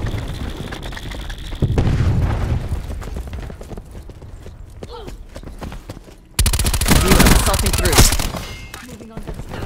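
Repeated cluster grenade explosions and gunfire in a Call of Duty: Black Ops IV team deathmatch, with heavy booming bursts near the start and a loud, dense volley of blasts in the final seconds.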